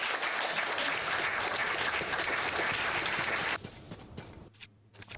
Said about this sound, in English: I'm going to give myself some applause for that one.